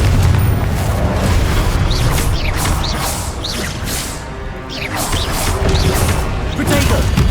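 Spell blasts in Hogwarts Legacy combat: loud booming impacts and crashing bursts with whooshing casts, fired one after another over a constant din, while in-game voices shout incantations.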